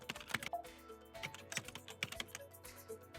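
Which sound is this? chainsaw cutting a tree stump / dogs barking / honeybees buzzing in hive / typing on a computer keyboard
typing on a computer keyboard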